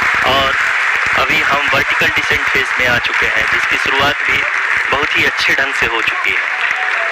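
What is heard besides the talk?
applause in mission control room during Chandrayaan-3 landing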